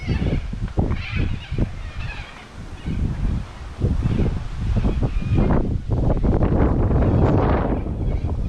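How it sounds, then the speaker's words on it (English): Gusty wind at Deep Reach in Millstream, Pilbara, buffets the microphone in rough, rumbling bursts that rise and fall, growing stronger and steadier toward the end, with no talking. "Sorry about the wind."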